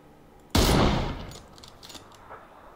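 A single loud gunshot bursts out close by in the video game PUBG, then rings and decays over about a second, with faint clicks trailing after.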